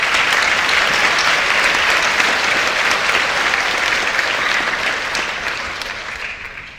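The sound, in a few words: audience applause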